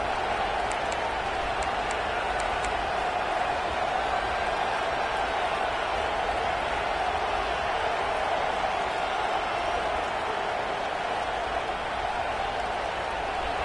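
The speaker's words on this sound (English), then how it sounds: "This dog crowd is off the leash, and they are coming after them, bringing noise on third down" A large football stadium crowd roars steadily on third down, a dense wall of cheering and shouting that holds loud and constant throughout.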